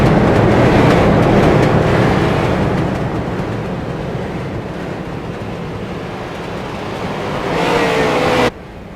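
Street stock race cars roar around the oval at Iowa Speedway under caution, a loud, dense, continuous engine drone that dips slightly mid-pack, swells again, then cuts off abruptly near the end.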